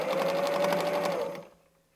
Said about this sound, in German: Wir nähen ein Stück gerade,